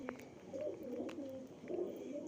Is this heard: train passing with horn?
no